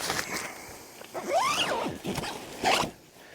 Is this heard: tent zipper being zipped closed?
yes